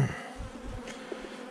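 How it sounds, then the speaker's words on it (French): Honeybees hum at an open hive during a beekeeper's inspection, a faint, steady close-up buzz with a few slightly louder wingbeat swells and no voices. "je m'occupe un peu de mes abeilles"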